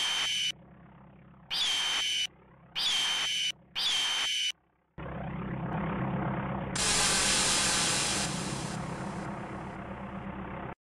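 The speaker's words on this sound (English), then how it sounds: "We wanted the lasers to be more of a shriek, eagle shriek." A griffin-themed laser sound effect built like a shrieking eagle: four sharp, piercing bursts in quick succession, then a longer hissing, roaring blast that swells and holds.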